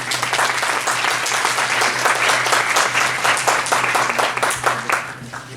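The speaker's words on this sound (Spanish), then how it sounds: "Vamos a darle un aplauso, por favor." A conference audience at a talk on systemic therapy gives a sustained, loud round of applause. The dense clapping holds steady for several seconds and then begins to taper off at the end.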